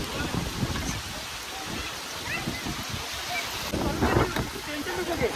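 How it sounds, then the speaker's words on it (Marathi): Heavy rain pours steadily outdoors during a village party for retired men, with a big cooking fire nearby. The hiss is constant and fairly loud, with water splashing and some wind noise, and voices are mixed in. "एक नंबर पाऊस आहे भरपूर तरी पण पाऊस आहे"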